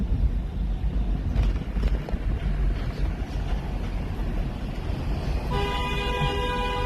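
Car horns honk in Times Square traffic. A dull street rumble with scattered knocks fills the scene, then a loud, sustained horn blast sounds near the end.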